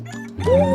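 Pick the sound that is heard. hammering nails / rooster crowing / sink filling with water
rooster crowing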